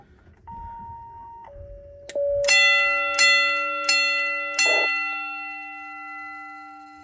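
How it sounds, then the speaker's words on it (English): After a few electronic beeps, a Station Alert Controller 812 strikes its gong four times in a steady rhythm, each loud metallic ring decaying into a long, sustained tone. "now you're going to hear the gong up here"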